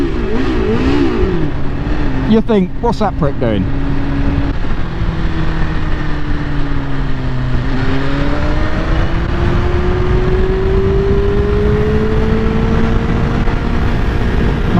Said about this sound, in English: Go past your mates, give them a rev bomb.